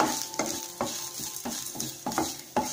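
Grated coconut sautéing in a pan for a ridge gourd chutney: four or five firm scraping stirs over a close, continuous sizzle.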